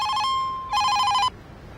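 A telephone rings with a trilling electronic tone, two bursts separated by a brief steady tone, loud and close in a quiet household room.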